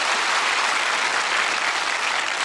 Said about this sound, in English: I think you should have a round of applause for having to go for a few more bob there.